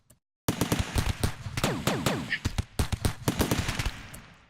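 Rapid gunfire in the colony game RimWorld, a dense run of sharp repeated shots and bursts starting after a brief silence and continuing steadily, close and fairly loud with no talk over it.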